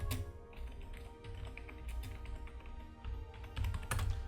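Rapid, uneven tapping of keys on a computer keyboard, close and fairly quiet, with a few louder clusters of keystrokes toward the end and no talking.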